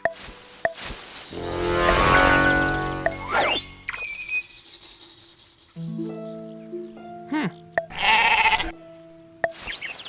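Sheep bleating in the video game Righteous Tale, several separate wavering bleats spread through the scene, clear and fairly close over a soft musical background with a few jingling tones.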